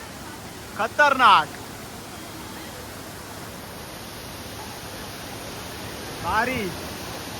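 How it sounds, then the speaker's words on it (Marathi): The largest waterfall at Amboli roars as a steady broad rush of falling water, constant and full throughout, with a couple of short spoken remarks over it. "तर ह्यो असा आंबोलीतलो सगळ्यात मोठो धबधबो."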